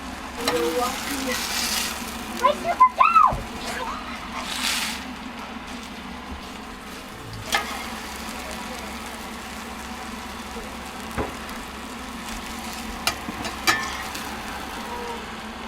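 Hash browns frying in a pan in a parked bus kitchen, a soft steady sizzle close by under a person talking, with a few clinks and scrapes.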